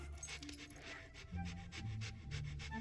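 A dog in the video game Fable 2 pants in quick, rhythmic breaths close by, the loudness holding steady throughout over a soft game ambience.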